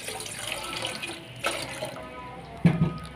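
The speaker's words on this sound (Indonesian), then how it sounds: "Kita masukkan airnya." Water pours into a cooking pot for the sauce of a Thai sago pudding, a soft splashing and trickling stream close by with a sharper splash near the end.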